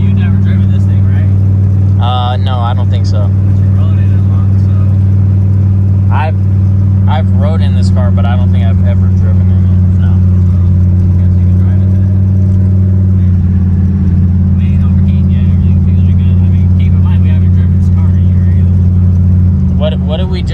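A loud idling turbocharged Fox-body Ford Mustang engine with a header gasket exhaust leak drones with a deep, steady rumble close by, while people talk over it intermittently.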